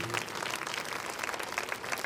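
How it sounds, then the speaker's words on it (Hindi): A crowd at a devotional event claps for the music-stage artists, producing a continuous, even wash of distant applause with no clear pauses. "और हमारे जो संगीत मंच के कलाकार हैं उनके लिए भी तालियां बजाएंगे भाइयों के लिए"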